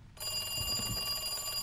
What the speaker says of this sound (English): That's a weird phone. It's an old phone.